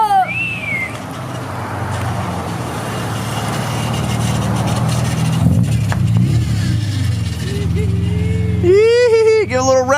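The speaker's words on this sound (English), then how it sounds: "Give her a little rev." A Nissan D21 pickup truck's engine idles and builds into a sustained rev, loud and close. Voices talk over the engine, and birds chirp toward the end.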